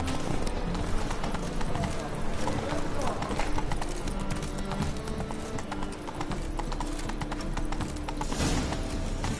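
Roach, Geralt's horse in The Witcher 3, gallops in a fast, continuous clip-clop of hooves that stays close and loud throughout, layered with game ambience and a spoken voice.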